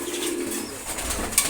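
Pigeons in a coop, a red khaki bird among them, give soft low cooing at close range, a steady murmur with a slight swell near the end.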